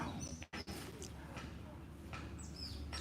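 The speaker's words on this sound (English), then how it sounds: "Beautiful sounds of the birds in the air." Soft cooing from pigeons or doves mixes with light chirps in a quiet outdoor setting, fairly distant.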